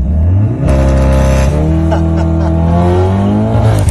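A Cupra Formentor with a Supersprint full straight-pipe exhaust revs loudly and close, a deep raw engine roar that climbs in pitch in sustained pulls with no pauses.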